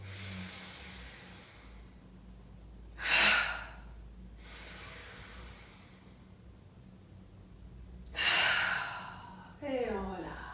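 Forceful breathing during a bow-drawing exercise in an Indian jungle setting: three strong, breathy exhales spaced a few seconds apart, close and loud against a quiet background, the last one ending in a brief voiced sound.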